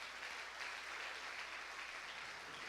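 Church congregation applauding in praise, a soft, distant wash of even clapping that holds steady throughout without a break.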